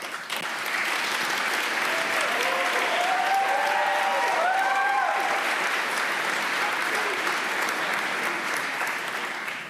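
At a university business school awards ceremony, a large audience applauds as students stand. Loud, sustained, even clapping fills the room from start to finish, with faint voices murmuring and calling out underneath.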